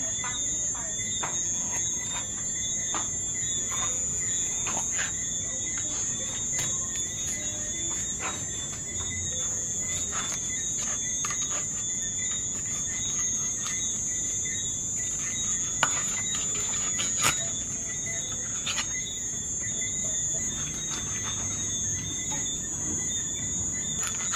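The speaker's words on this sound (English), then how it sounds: "even the crickets are applauding" Crickets chirp steadily in a high, continuous trill, with scattered clicks and faint background sounds throughout.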